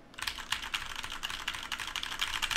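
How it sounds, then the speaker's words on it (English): Rapid clacking keystrokes on a new, loud computer keyboard, close and steady for a few seconds with no voices over it. "It's my new keyboard."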